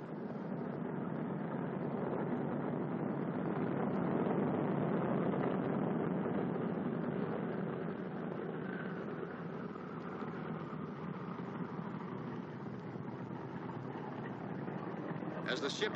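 Boeing B-29 Superfortress bomber radial engines rumble steadily as the heavy plane taxis, a continuous loud drone with slight swells as the outboard engines steer, ending with a brief sharp click.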